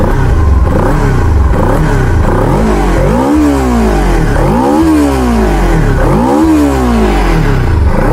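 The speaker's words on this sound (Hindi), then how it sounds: "यहाँ पे सुनाता हूँ, एग्जॉस्ट सुनाता हूँ, इससे अच्छा मारती है, अच्छी स्पीड मारती है।" A 2025 Kawasaki Ninja 300 motorcycle with a twin-pipe exhaust revs loudly up close, the engine climbing and falling in several repeated throttle blips over a steady idle, no talking.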